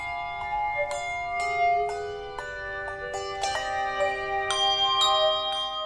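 A handbell choir ringing a melody of clear metallic tones, about a dozen strikes at an unhurried pace with each note ringing on and overlapping the next, close and fairly loud with no talking.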